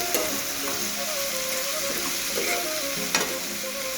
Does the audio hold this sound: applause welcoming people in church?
no